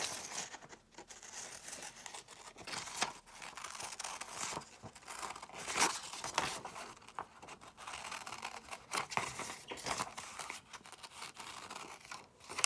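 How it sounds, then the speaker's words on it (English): Scissors cutting out paper shapes for an art project, a close, faint run of crisp snips and soft paper rustling and crinkling in an irregular rhythm. "now I'm going to cut them out."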